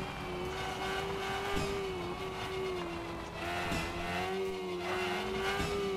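A custom-built car with a four-speed gearbox drives in a video game, its engine holding a steady droning note that dips and climbs slightly with gear and throttle changes, loud and continuous throughout.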